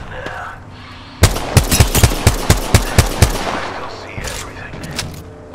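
Automatic gunfire in a squad-based shooter video game: a loud burst of about eight sharp, evenly spaced shots, followed by a softer background sound and a few faint later pops.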